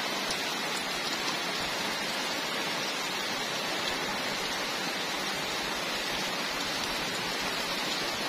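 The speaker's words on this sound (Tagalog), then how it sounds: "At yun, umulan na." Steady rain pours down over a farm in the countryside, a dense continuous hiss of drops striking surfaces that stays even and fairly loud from start to finish, with no voices.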